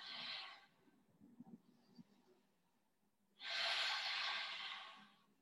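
Two long, forceful breaths during an abdominal and back exercise, the second a sustained exhale, close and breathy, with quieter soft breathing in between.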